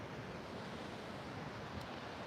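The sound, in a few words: ocean waves at San Diego oceanfront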